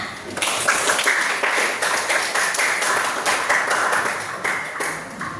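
A classroom of students clapping together after a group presentation, steady sustained applause with small cheering voices, fairly loud and near throughout.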